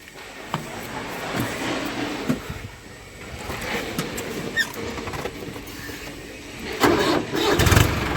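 A tractor engine cranks and fires up outdoors on a farm land-levelling job, with rough rumbling and clattering that swells louder toward the end as it catches and runs, no talk over it.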